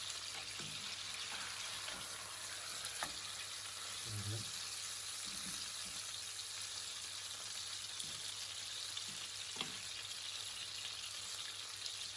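Salmon fries in a pan, a faint, steady sizzle and crackle with a few soft clinks and scrapes, continuous throughout at low level with no talking.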